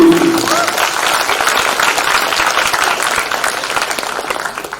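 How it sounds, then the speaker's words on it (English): Loud, full applause from an audience for army quiz teams on stage, dense clapping that starts strong and gradually thins toward the end. "So let's have a round of applause for everyone on stage, please."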